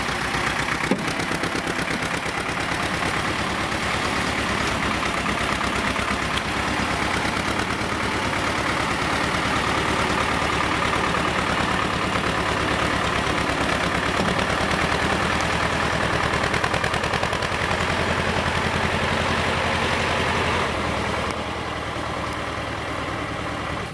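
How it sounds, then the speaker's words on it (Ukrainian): A tractor engine runs steadily while pulling a vehicle out of spring mud, a dense continuous rumbling drone with mechanical rattle, holding level before easing slightly near the end. "допоміг нам тракторець"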